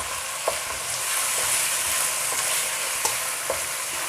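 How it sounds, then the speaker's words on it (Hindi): Chicken frying in a pan with ginger and garlic, a steady broadband sizzle with a few sharp clinks of stirring at intervals, no talking. "इसके साथ चिकन को भूनूँगी।"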